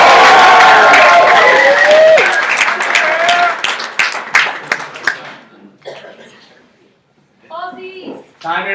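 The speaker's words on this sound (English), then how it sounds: "let's cheer them on" Audience at an ideas-weekend pitch event standing to cheer and applaud, a dense roar of clapping and whoops that fades out over several seconds, followed by a few spoken words.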